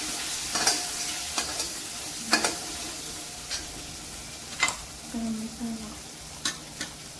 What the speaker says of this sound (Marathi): तर अशा पद्धतीने छान परतून घ्यायचं आहे फोडणीमध्ये त्याला पण